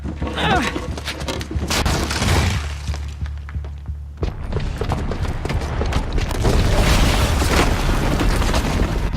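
A bomb explodes in the video game Horizon Zero Dawn: loud booming blasts and rumbling debris with crashing, shattering layers, sustained and dense, with a deep rumble continuing throughout and a voice briefly audible underneath.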